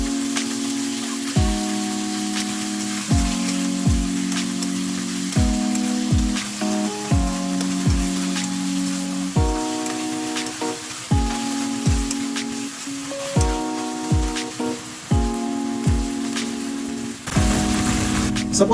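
Chicken frying in a pan for a Chinese-inspired chicken and Baguio beans stew, a steady close sizzle broken by repeated scraping stirs every second or two, with a brief louder hiss near the end.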